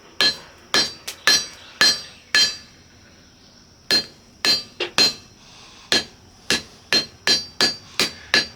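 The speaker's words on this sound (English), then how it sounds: "And I can hammer that off." Sharp metallic blacksmith hammer blows on hot metal ring out in uneven bursts, several quick strikes, a pause, then another steady run of clanging hits close by.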